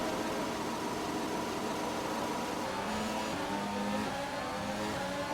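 F1 2020 race cars at the Bahrain start roar together under heavy acceleration, a dense, loud, continuous engine wash with rising tones layered over one another and no talk.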